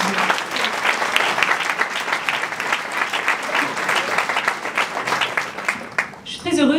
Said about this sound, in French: je vous proposerai une grande main d'applaudissements